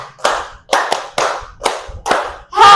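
Bursts of hand clapping from a group playing a classroom clap-counting ice-breaker game: five or six distinct clusters of quick claps separated by brief gaps, close and loud, with a short vocal shout at the very end.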